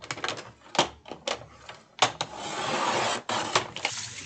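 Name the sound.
cutting and trimming a Dollar Tree box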